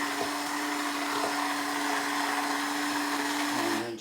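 A small motor whirs steadily while blending cranberries, a continuous buzzing drone that holds at the same level before cutting off at the very end.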